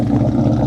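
A Ford Cobra car engine idles roughly with a loud, deep, uneven rumble that throbs steadily through the short stretch, up close and alone.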